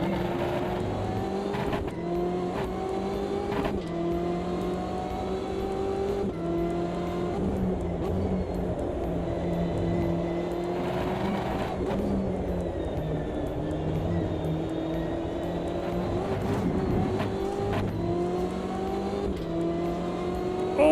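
GT3 race cars, including a BMW, in Automobilista 2, engines droning steadily with gear changes and revving, close and continuous for the whole stretch with no talk.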